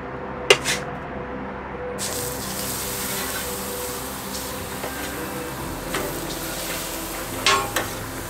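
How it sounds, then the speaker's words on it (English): Shrimp laid down in oil on a hibachi grill give a steady, close sizzle that swells after a brief pause, with occasional clinks of a utensil against the hot surface. "Let's go ahead and put our shrimp down."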